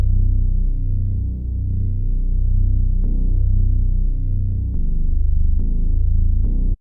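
A dry Moog Bass one-shot from a Cymatics kit plays deep, sustained root notes, each opening with a small click, in a loud and steady low synth line.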